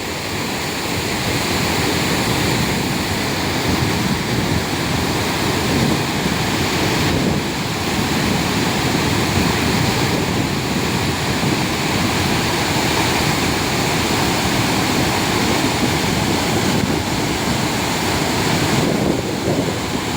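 A loud, steady roar of the fast-flowing Progo River current near the Srandakan dam construction site, continuous and broadband throughout with no voices.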